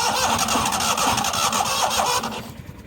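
A neglected 1998 Yazoo YTKC22 three-wheel mower engine cranks over steadily in a continuous churning rhythm, trying to start, then cuts out abruptly near the end.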